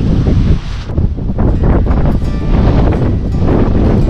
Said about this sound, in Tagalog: Grabe, lumalakas na yung hangin oh.